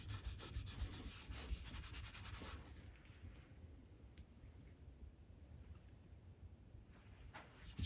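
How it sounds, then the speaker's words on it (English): Sandpaper rubbing back and forth over stained curly maple, brisk close scratchy strokes for a few seconds, then quieter, slower rubbing with occasional light taps. "Sometimes you have to sand it back out a little bit too to get it to fade in a little bit better."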